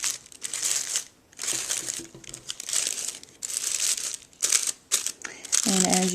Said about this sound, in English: And then I'm going to fluff out the petals of the tissue paper.